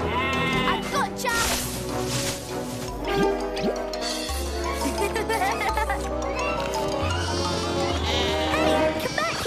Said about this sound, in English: Thomas, we need to find a way to stop these sheep